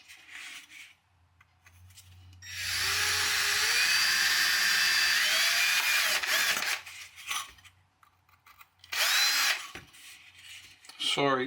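A power drill bores out standoff holes in an amplifier circuit board, a loud high whine running for about four seconds, then a short second burst after a few brief quieter noises.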